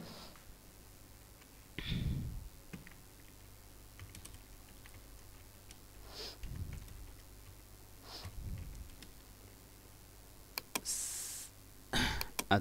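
Computer keyboard typing while entering text into a text box during a shortcut-key tutorial, heard as scattered bursts of keystrokes and clicks with a quicker flurry near the end, close and fairly quiet, no speech.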